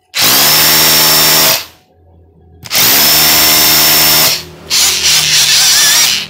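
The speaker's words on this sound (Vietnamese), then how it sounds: "khoan búa nè" A cordless drill switched to hammer mode and fitted with a 14 V battery whirs loudly and close in two long bursts, about 1.5 seconds each, with a brief pause between and a rougher rattling run after.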